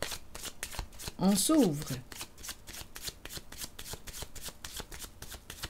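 Tarot cards are shuffled quickly and rhythmically close to the microphone, a steady run of crisp riffling slaps throughout, with a brief spoken phrase partway through.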